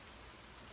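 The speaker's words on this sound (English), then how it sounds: "It's raining." Rain falling outdoors at a car club charity event, a steady, dense hiss of drops pattering on surfaces, continuous and even throughout with no talk.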